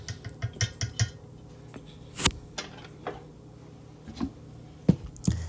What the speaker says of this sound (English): I'm going to just mix it all together. I use a whisk here.